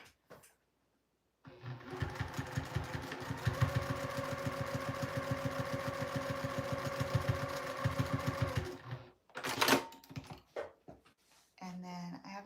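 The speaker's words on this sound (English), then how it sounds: "take the 1/4 inch seam allowance and stitch across that raw edge" A sewing machine stitches across a raw fabric edge at a quarter-inch seam allowance, a steady fast mechanical whirring hum for several seconds that stops, then is followed by brief handling sounds and a voice.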